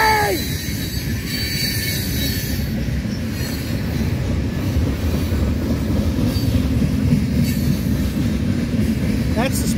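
A southbound CSX freight train led by a Union Pacific locomotive passes close by on track one, with a Springdale switcher nearby. It gives a loud, steady rolling rumble with wheel clatter and occasional high squeals.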